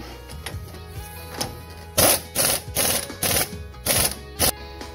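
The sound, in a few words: ratchet tightening lower arm bolt on GMC Envoy strut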